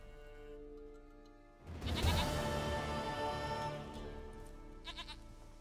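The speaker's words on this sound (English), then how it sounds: "Goat of mine, dearest, sweetest goat." A goat bleats in The Witcher 3 video game: one long, wavering, nasal cry rising out of soft background music, close and fairly loud, then fading, with no speech.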